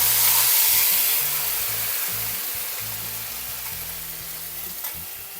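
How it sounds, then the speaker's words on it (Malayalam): Tomato hits hot oil with mustard seeds in a pan, a loud, broad sizzle that flares at the start and then settles into a steady, slowly fading frying hiss, with no talk. "തക്കാളി അതുകൂടെ അതിനകത്ത് വെച്ച് കൊടുക്കാം"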